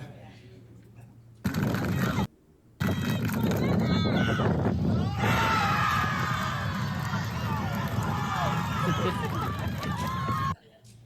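A large crowd at a championship match cheers and shouts loudly and continuously, with excited voices rising over a dense roar, after a short quieter stretch and a brief gap near the start.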